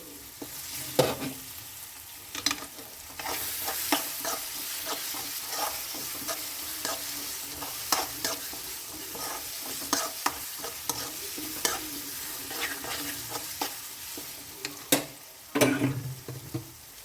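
Curry leaves crackle and sizzle in hot oil while being stirred for lemon pickle, a steady close frying hiss broken by clinks and scrapes of the spoon against the pan, with no talking.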